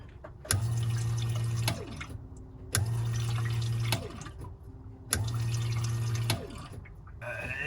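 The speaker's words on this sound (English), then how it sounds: "Fuel pump in there needs to fill up the surge tank" A low electric hum from a Bosch 200 external fuel pump filling a surge tank switches on and off in three even bursts, each about a second long, over a soft background whir.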